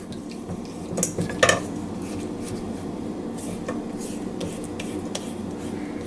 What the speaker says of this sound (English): We'll scrape down the sides so we get everything in here, or as much as possible anyway